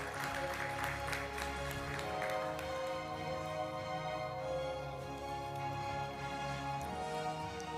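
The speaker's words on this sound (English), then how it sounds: "give them a round of applause as they take this stage" Conference audience applause at a Dubai health event, a steady, dense patter of many hands sustained throughout, with music or background tones running underneath.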